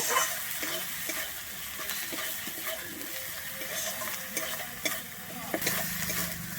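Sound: stirring Kashmiri chili powder into tangra fish curry

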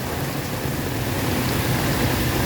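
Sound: heavy rain falling

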